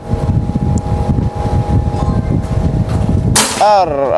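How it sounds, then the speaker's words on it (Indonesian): A single sharp shot from an FX air rifle with a bottom plenum cracks out near the end, cutting through a steady rumbling background, and a brief voice-like sound follows. "Kita coba tembakan kedua. Apakah bisa tetap?"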